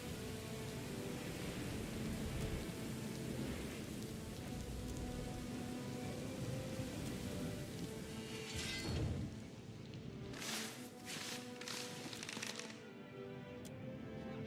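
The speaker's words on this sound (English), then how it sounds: "I'm in a storm." Steady rain hisses through a storm in the video game Pillars of Eternity: Deadfire, a dense wash of downpour with brief cracking bursts near the end, no talking.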